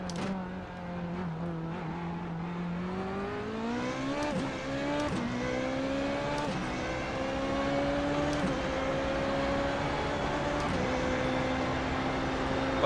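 A go-kart engine in the iRacing sim pulls away from a standstill, its steady drone rising in pitch as revs climb, with several brief dips and recoveries, loud and continuous with no talk.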